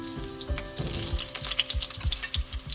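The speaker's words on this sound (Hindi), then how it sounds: "आलू हमें शैलो फ्राई करना है" A medium potato shallow-frying in hot oil in a kadai, with no salt or turmeric, gives a steady close sizzle punctuated by regular soft clunks as it is stirred and turned.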